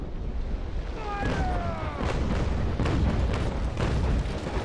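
Cannon fire during a naval battle in the Naval Action video game: repeated booming shots over a constant roar of wind and sea, with a brief whistling tone partway through.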